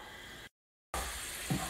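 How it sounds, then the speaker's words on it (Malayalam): Spice masala for Palakkad-style sambar, made with chilli powder, coriander powder, asafoetida and roasted fenugreek powder plus a splash of water, sizzling as it sautés in a pan. The steady frying hiss breaks off briefly, then returns with a soft stir. "മസാലൻ്റെ പച്ചമണം മാറണവരെ ഒന്ന് വഴറ്റിയെടുക്കുക"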